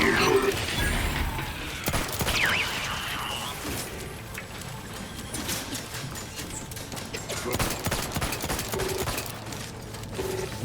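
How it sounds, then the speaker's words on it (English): Turret gunfire in The Outer Worlds 2, a steady run of shots and mechanical clatter over game noise, with a sharp burst near the start and more bursts later. A voice talks over part of it. "We are taking fire."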